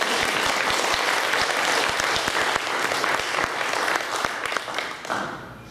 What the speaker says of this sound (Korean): 우리 반주자를 위해서 박수 한번 다시.